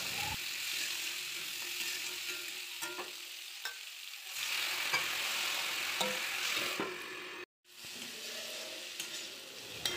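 Sweet potato and pumpkin pieces frying in a pan with oil, a steady soft sizzle with occasional scraping stirs, close and quiet.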